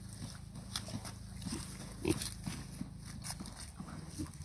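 Kunekune piglets grunt and chomp nearby in a steady run of low, overlapping snorts and chewing sounds, with a few louder grunts standing out.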